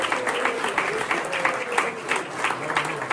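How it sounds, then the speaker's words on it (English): A room of St. Patrick's Day dinner dance guests applauds warmly, a near, lively clatter of clapping with some individual claps standing out and faint voices mixed in. "So let's give the Edelsons a big round of applause."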